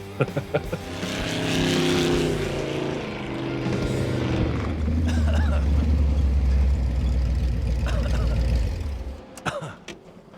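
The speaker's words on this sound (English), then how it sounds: "The sound of the exhaust right there in stereo, pure adrenaline rush." A loud, throaty hot rod engine built from a Metropolitan revs hard through its exhaust and climbs in pitch, holding a rough roar for several seconds before cutting off abruptly.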